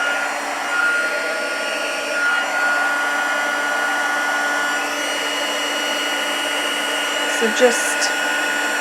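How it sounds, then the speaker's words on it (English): Heat gun blowing steadily over an ornamental pine snow scene craft piece, a constant close airy hum and whir, with a voice speaking briefly. "Then we need to use the heat gun,"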